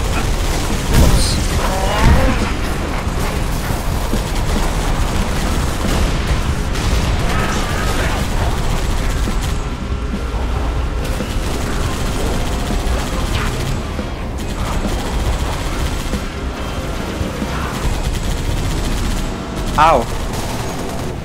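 Rapid automatic gunfire and bursts of shooting from Halo: Reach fill the whole stretch, loud and continuous with occasional booms, while a voice briefly calls out over the battle.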